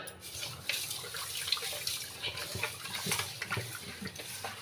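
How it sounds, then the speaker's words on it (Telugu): Water is poured out onto garden plants, a soft, close splashing and trickling that runs steadily with no voices. "ఈ నీళ్ళన్నీ చెట్లకు పోస్తాను ఫ్రెండ్స్."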